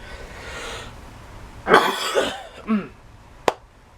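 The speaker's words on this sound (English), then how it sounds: "Sorry about the coughing." A person coughs close by, a harsh throaty cough followed by a smaller one and a short sharp click, over quiet background hiss.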